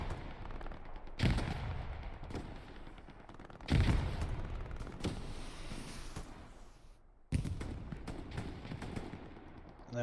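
Gunfire in an 18-versus-18 checkpoint match of a military shooter game, with several loud sharp shots punctuating a constant rumble of distant battle noise and no voices.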